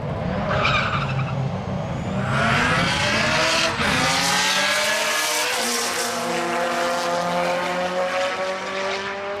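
A single RX drag race car launching hard off the start line, a loud close roar rising in pitch as it accelerates away, with tire screech at the launch and a steady climbing engine note.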